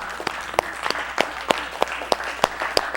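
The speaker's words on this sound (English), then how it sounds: "Give me a hand clap." Hand clapping from a congregation at a synagogue service. Sharp, regular claps fall roughly every third of a second over a softer bed of scattered clapping, moderately loud and close.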